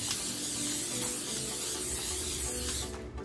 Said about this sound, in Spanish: voy a poner aceite vegetal en mi mesa de trabajo